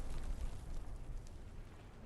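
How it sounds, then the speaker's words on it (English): Rumbling battlefield explosions in the World War II shooter Hell Let Loose roll on as a continuous low, muffled barrage that stays fairly faint and distant throughout. "Explosions like crazy."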